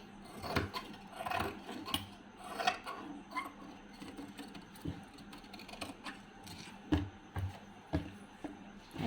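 Scissors snipping through blouse fabric at the neckline, a run of soft crisp blade closes and rustles, close up and fairly faint.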